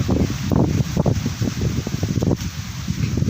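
Strong wind blowing outdoors near rice fields, heard as loud irregular gusts buffeting the microphone, rumbling and rustling in uneven bursts with no talk.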